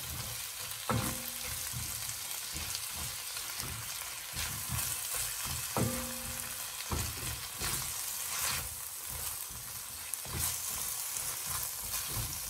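Dried fenugreek leaves are stirred into a curry of aubergine and chickpeas frying in a pan, giving a steady close sizzle with soft scraping stir strokes throughout.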